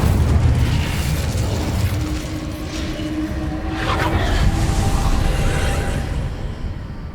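A fire spell cast in the wizarding game Hogwarts Legacy: a sustained roaring, crackling burst of flame with low rumbling underneath, loud and continuous for several seconds amid game ambience.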